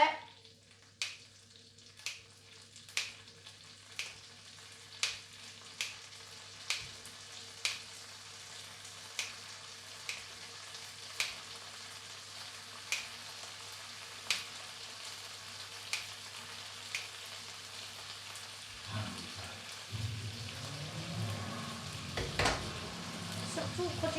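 Carbonara sauce cooking in a pan, a soft sizzle running throughout under a series of evenly spaced sharp clicks, turning into louder stirring and scraping near the end.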